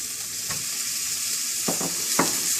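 Cooked langoustine hitting a pan of green curry sizzles strongly and steadily up close, broken by a few sharp knocks of stirring.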